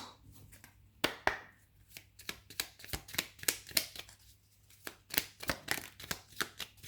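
Oracle cards being shuffled by hand, a quiet, close series of irregular riffling slaps and flicks with short pauses between them.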